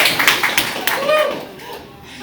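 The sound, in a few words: clapping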